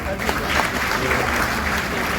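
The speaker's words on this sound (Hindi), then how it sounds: "अपने लिए तालियां बजाएं" Audience of women at an insurance agents' gathering clapping together, a steady close burst of applause with chatter mixed in throughout.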